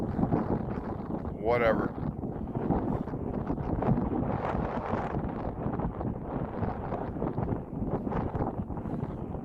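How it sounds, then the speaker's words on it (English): Gusty wind buffets the microphone during an e-bike ride through Las Vegas, a constant loud rumble with a brief whistle near the start, while a voice talks over it. "It is windy out today."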